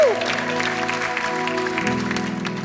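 A congregation at a worship night claps over sustained keyboard and music chords, a steady wash of applause mixed with instrumental tones rather than standing alone.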